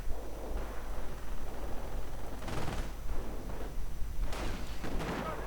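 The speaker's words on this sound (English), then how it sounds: "Fallschirmjäger called in again, suffering heavy fire." Gunfire rains down on Fallschirmjäger paratroopers in the Company of Heroes strategy game: dense, rumbling battle noise with bursts of rapid shots and muffled blasts clustering into louder volleys near the middle and the end.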